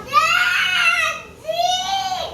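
A young child cries and screams loudly up close in two long wailing bursts separated by a short breath, at home during a busy morning.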